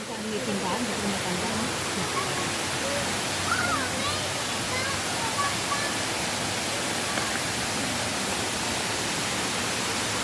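Hinulugang Taktak waterfall in Antipolo roars as a steady, dense rush of falling water, loud and unbroken throughout, with faint voices and birdlike chirps barely poking through the wash.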